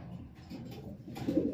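Pigeons cooing softly in low, throaty rolling calls, a few overlapping coos with one louder burst near the end, no talking.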